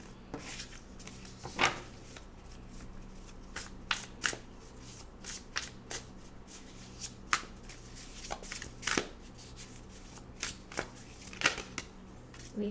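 Tarot cards being shuffled by hand, a soft continuous riffle and slide with scattered crisp snaps and flicks, close and quiet, with no talking over it.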